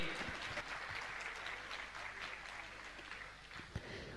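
Applause from an audience at a Jain religious gathering honouring temple worshippers, a continuous faint wash of many hands clapping heard from a distance.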